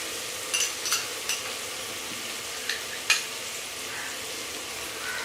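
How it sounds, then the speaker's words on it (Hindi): Tomato masala for aloo gosht is fried and stirred in a pan, giving a soft continuous sizzle. A few sharp spatula scrapes and taps cut through it, and no voices are heard. "अब तकरीबन 2 से 3 मिनट तक भूनूंगी।"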